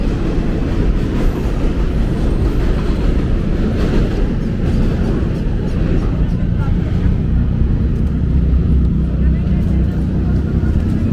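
Steady heavy rumble of an elevated train on tracks above Roosevelt Avenue in Jackson Heights, Queens, filling a busy street intersection with continuous low roar and traffic, with people talking faintly underneath.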